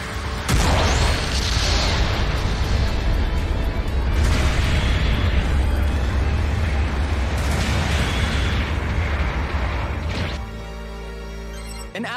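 A mobile suit explodes in the video game Gundam Battle Operation 2, making a long, loud, roaring blast and rumble with crashing bursts before it cuts to a quieter hum.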